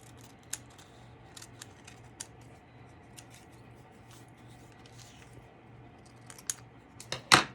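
Scissors cut paper for a journal page in a quiet room, a few faint, scattered snips spread across several seconds, with a sharper rustle near the end.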